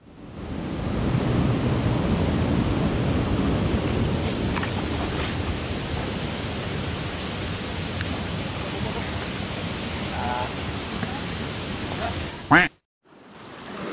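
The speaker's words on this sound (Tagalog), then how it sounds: "Medyo malakas ang daloy ng tubig." Strong river current rushing near a waterfall at Eva Falls in Bulacan after rain, a loud broadband roar that swells in, holds steadily, then cuts off abruptly near the end with a handling bump.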